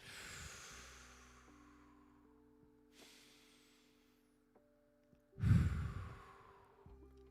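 Slow deep breaths, inhaled and exhaled near the microphone: a soft airy breath at the start, a quieter one around three seconds, and a stronger, louder exhale toward the end against a faint low hum.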